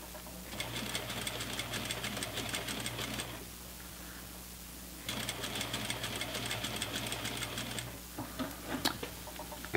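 Sewing machine stitching slowly over a seam on elastic-back pants, two close bursts of rapid mechanical needle clatter separated by a short pause, then lighter handling noises.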